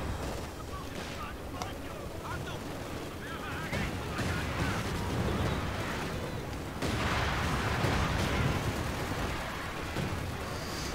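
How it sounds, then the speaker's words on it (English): A zeroing artillery barrage in Company of Heroes 2 lands as a dense, rumbling series of booms and blasts, building in intensity toward the end and sustained beneath a commentator's voice. "We do have, however, a zeroing artillery coming in from Alex MP, and that could be quite dangerous."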